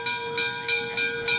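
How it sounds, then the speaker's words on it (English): Wilmington & Western vintage tourist railroad train in Delaware, a loud, close, steady tonal drone pulsing in a regular beat roughly three times a second, with no voices. "Hop on board this vintage tourist railroad for a trip back in time."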